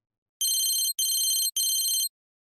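Three bursts of a bright electronic phone ringtone sound out one after another, each about half a second long with brief gaps, crisp and close, alone in a narrated children's story.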